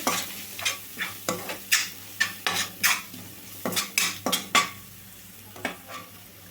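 A spoon stirring garam masala and chaat masala spices in a pan, a run of sharp metallic clinks and scrapes in uneven bursts over a faint sizzle, close and without talk.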